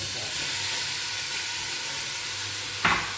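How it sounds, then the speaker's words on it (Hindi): Sugar and grated bottle gourd cooking in a pan for lauki halwa, a soft steady sizzle and hiss with a brief louder stir or clatter near the end, no talk. "और इसके बाद लौकी को, जो कद्दूकस की हुई थी उसको डाल देंगे।"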